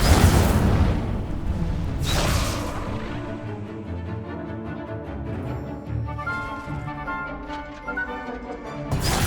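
A fiery whoosh and burst from the Incendio spell in Hogwarts Legacy, with a loud blast opening and a second surge soon after, then crackling, flickering burning and booming combat sounds.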